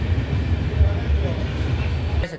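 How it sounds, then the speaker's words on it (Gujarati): A passenger train passes around a quarter to one, giving a continuous, fairly loud low rumble and rattle throughout that cuts off abruptly at the end. "અત્યારે જો રેલગાડી જાય 12:45ની"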